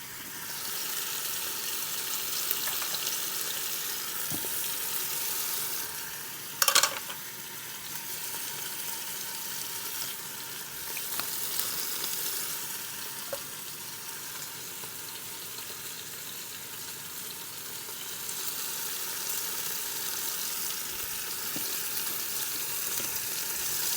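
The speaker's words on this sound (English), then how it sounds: "I'm just flipping and just making sure that each side gets nicely seared" Beef short ribs searing in an Instant Pot, giving a steady, fairly loud hiss of sizzling fat with a single sharp clatter partway through as a rib is flipped, no voices.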